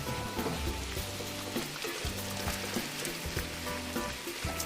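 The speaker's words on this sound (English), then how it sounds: "As soon as you drop this meat in here, all the fresh herbs and aromatics just come spitting right at your face" Ground beef sizzling in a pan with peppers and onions: a steady, dense crackle and spatter, like rain on a surface, with a faint tonal hum underneath and no talking.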